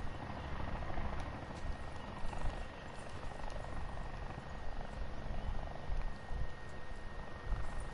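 A video game helicopter from Black Ops 4 Blackout rotor-thrums steadily throughout, a dense continuous drone heard alone without talk.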